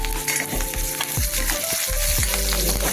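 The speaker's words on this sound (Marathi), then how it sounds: "त्याला थोडा कांदा टाकून घेऊ. तो थोडासा आपण परतून घेऊ. त्याला टाकू कढीपत्ता" Onion and curry leaves sauté in a pan after cumin, giving a steady loud sizzle with repeated scraping strokes of a spoon against the pan and no talking.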